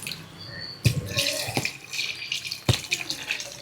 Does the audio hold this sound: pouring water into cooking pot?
yes